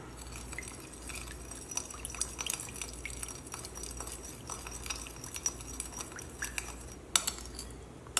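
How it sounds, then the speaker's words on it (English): Sugar is stirred into a liquid to dissolve it. A spoon clinks and taps against a glass or dish again and again, with faint dripping, close by and fairly quiet. "we stir until the sugar has been dissolved"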